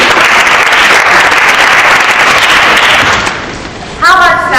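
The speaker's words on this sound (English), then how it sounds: "Can we give the shy folk a round of applause?" An audience at a diversity discussion event gives a loud, dense round of applause that fades after about three seconds, followed by a voice speaking.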